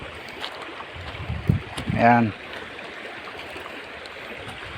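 A river in the Philippines flows with a steady broadband rush while people cross it, with brief voices and a couple of short knocks over the water noise.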